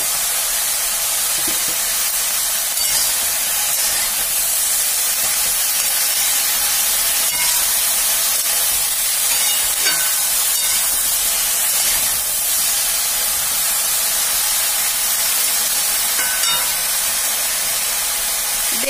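Eggplant slices frying in oil, seasoned with salt and turmeric, give a steady, dense hiss of sizzling that holds evenly throughout with no talking.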